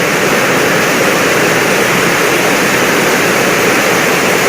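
Flood water rushes along a swollen river in a dense, unbroken roar that is loud and close, with no voices over it.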